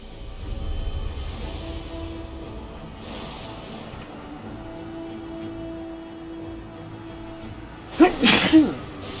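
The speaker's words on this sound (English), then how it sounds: "Sorry, I was just sneezing." Near the end comes one loud, close human sneeze with a quick double burst. Before it, faint background sound plays under a steady low hum.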